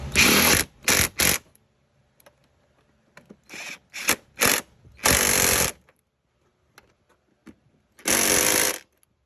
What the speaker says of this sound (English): Get your impact or your wrench and go ahead and tighten these down.